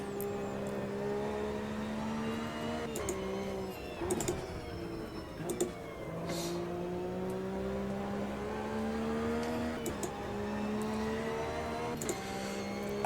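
A Porsche engine in the Automobilista 2 racing game climbs steadily through the revs in long rising sweeps, with sharp gear-change breaks every few seconds, loud and continuous throughout.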